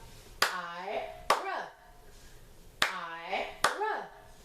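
Two pairs of sharp, close hand claps, each clap landing with a voice sounding one syllable, with a short pause between the pairs.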